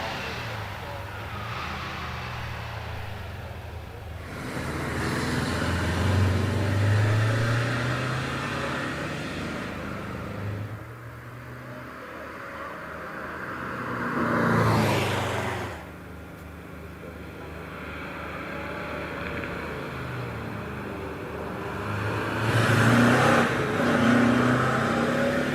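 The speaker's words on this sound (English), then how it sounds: "Bit of a twitch from the Porsche as he comes out of that left-hander on up the hill." A Porsche 914 rally car accelerates up a hillclimb course at a rally event, its engine rising and falling in loud surges as it passes through corners, with a commentator talking over it throughout.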